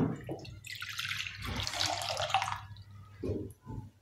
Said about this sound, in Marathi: आता याच्यामध्ये बरोबर 1 तांब्या पाणी ओतत आहे.